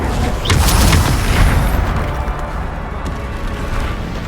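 Bombarda explosion spell from the video game Hogwarts Legacy, a loud booming burst with crackling debris that fades into a rumbling tail, heard alone without speech.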